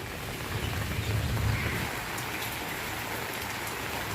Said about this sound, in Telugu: ఇదిగోండి వర్షం మళ్ళీ పడుతుంది